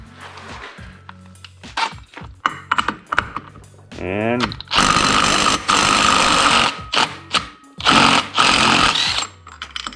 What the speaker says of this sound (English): just blast it off with the impact gun